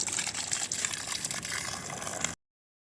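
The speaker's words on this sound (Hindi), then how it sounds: "तो साथ साथ में मैं पानी भी डाल दी हूँ फूलों में।" Water poured onto flowers on a rooftop, a steady broadband splashing and gushing that runs loud and continuous for about two and a half seconds, then stops abruptly.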